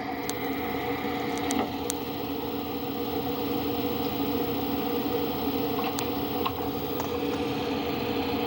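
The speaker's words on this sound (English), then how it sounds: "that to me sounds like the projector that I run when I do my slide shows" A slide projector runs with a steady mechanical hum and motor whir, its tone somewhat muffled as if played back from a recording, with a few faint ticks over the continuous drone.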